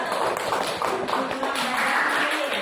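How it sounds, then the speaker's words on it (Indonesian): A classroom of students clapping for a group after its science experiment presentation, a dense, close clatter of hands that stays loud and even throughout. "Tepuk tangan untuk kelompok 1"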